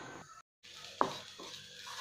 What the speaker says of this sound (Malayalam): എണ്ണയിൽ കിടന്ന് നന്നായിട്ട് മുളക് പൊടിയുടെ പച്ചമണമൊക്കെ മാറുന്ന വരെ നമുക്കിതൊന്ന് വഴറ്റിയെടുക്കണം.